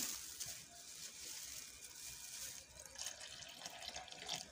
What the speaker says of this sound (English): So into this, I'll be adding in 500 grams of my water.